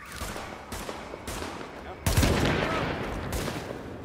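Bursts of gunfire in The Division, several sharp shots spaced about half a second apart followed by a heavier blast, loud and close in a game setting.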